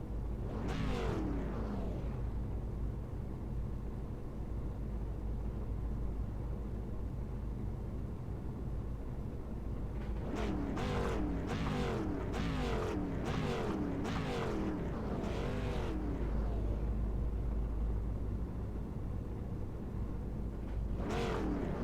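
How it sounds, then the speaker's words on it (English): iRacing race cars circle The Bullring at Las Vegas Motor Speedway behind a Mustang pace car, engines droning in the distance with one car passing early, a tight cluster rushing by in quick succession, then another at the end. "The Mustang iRacing pace car puts them into gear and starts taking them around the first of a 2-lap pace."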